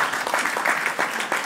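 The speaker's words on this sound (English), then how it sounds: "Let's give him a round of applause for that." A crowd at a Muslim charity event in London claps, a brief burst of loud, dense applause from many people, sustained throughout.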